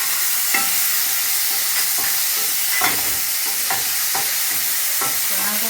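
Chickpeas dropped into hot oil with cumin seeds, a steady loud sizzle and frying hiss with intermittent stirring scrapes and clinks from a spoon against the pan, close by with no voices.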